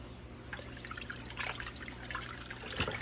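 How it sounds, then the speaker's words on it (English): Water trickles and splashes into a pot of gumbo, a soft continuous pour with small bursts of splashing, close and fairly quiet, with no talk. "I'm gonna add some more water to this."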